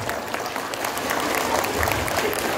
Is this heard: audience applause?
yes